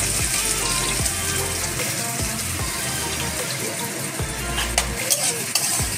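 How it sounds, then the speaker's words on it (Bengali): Chopped onions sizzle in hot oil for a mutton curry, a steady, loud frying hiss with spatula scrapes and stirring knocks against the pan throughout. "তেল গরম হয়ে গেছে, আমরা পেঁয়াজ কুচি দিয়ে দিচ্ছি।"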